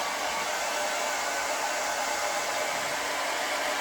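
Hair dryer blowing air to dry Createx Autoborne sealer on a goalie mask: a steady, close, loud whooshing roar that holds unchanged throughout with no speech.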